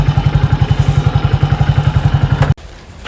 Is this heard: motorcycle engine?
yes